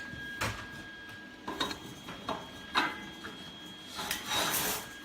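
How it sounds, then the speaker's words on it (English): A 12-inch steel receiver hitch slid onto the end of an off-road trailer frame, making several grinding, scraping metal-on-metal rubs and clunks in short bursts, close and fairly loud. "slide it onto the end."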